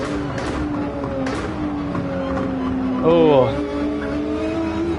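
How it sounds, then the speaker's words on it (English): A Ferrari 458 Italia engine in Gran Turismo 7 hums with a steady tonal whine, then revs up in a sharp swooping sweep midway, close and loud, while a person talks over it. "Love the sound of the Ferrari 458 Italia"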